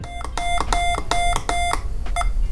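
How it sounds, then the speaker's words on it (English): Electronic beeps from a PUTIKEEG Morse code trainer, a series of short, evenly spaced tonal bleeps, loud and close, over a steady background hum. "If you get it correct, you'll hear one beep."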